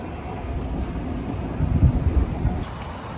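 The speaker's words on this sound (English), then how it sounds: "For our last day in Egypt, I asked to take the subway downtown." A Cairo subway train rumbles along with a steady low roar and rattle heard from inside the car, swelling briefly louder midway before settling back.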